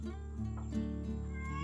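A cat meows in a drawn-out, wavering call near a fishing pier, loud and close over a steady low hum.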